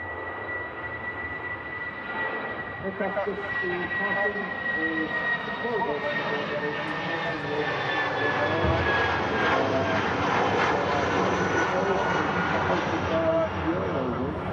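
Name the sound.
Eurowings airliner departing Manchester Airport for Dusseldorf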